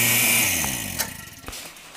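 A salvaged industrial Teaneck Graphics Fast Draw vacuum pump assembly whines with a falling motor pitch as it winds down, broken by a few sharp clicks near the end.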